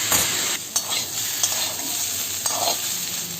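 Diced potatoes frying and being stirred in a pan for a simple no-spice potato curry, a steady close sizzle with a few sharp scraping stirs and clicks.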